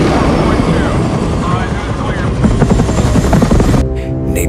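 A loud helicopter's thudding rotor and engine roar fill the clip, close and continuous, as it lifts two ships in a film scene, with a voice over it and a music sting near the end.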